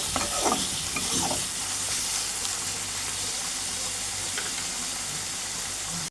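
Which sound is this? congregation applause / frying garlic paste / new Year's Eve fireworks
frying garlic paste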